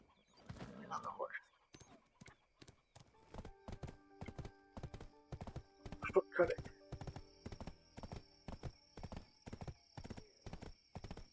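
Steady clip-clopping hooves trot in an even rhythm in the video game Black Desert, with a horse's whinny and someone speaking briefly over the top.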